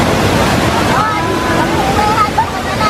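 Taytay Falls waterfall roaring as a loud, continuous broadband rush with wind buffeting the microphone, while people talk over it.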